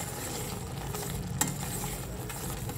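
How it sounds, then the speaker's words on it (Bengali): Olive pickle with melted jaggery is stirred in a pan, a steady low scraping swirl over a faint sizzle, with one sharp click of the spoon against the pan midway. "ড্রাই হচ্ছে আমি ততক্ষণ এটাকে নাড়িয়ে যাব।"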